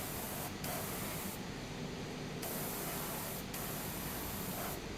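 A Gundam Marker airbrush spraying paint in a continuous hiss, with a few brief pauses and restarts of the spray, close and steady.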